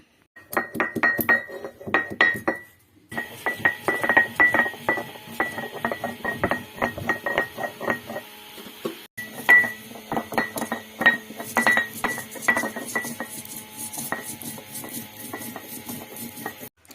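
Hard, rhythmic clinking and rattling from a small electric spice grinder jar processing fennel seeds, cinnamon and star anise for a home-style Kerala chicken curry masala. It comes in loud, repeated bursts with brief pauses between pulses.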